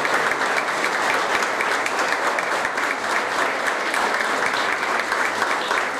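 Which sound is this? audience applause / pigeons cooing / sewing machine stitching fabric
audience applause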